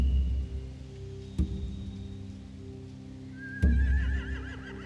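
Horses whinny in The Walking Dead video game amid a low background drone, with a couple of abrupt thuds and a rising, wavering neigh near the end.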